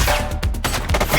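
A quick burst of gunfire from a police game, several sharp, loud shots packed close together in about a second.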